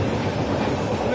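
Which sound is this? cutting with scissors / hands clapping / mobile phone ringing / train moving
train moving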